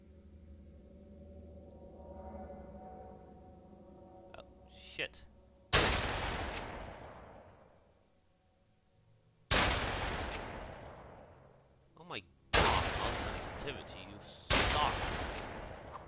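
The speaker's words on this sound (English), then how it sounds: "Shotgun blast in the face does almost nothing?" Shotgun blasts in the post-apocalyptic video game Fallen Earth, four loud booming shots spaced a few seconds apart, each with a fading tail, preceded by quieter game ambience.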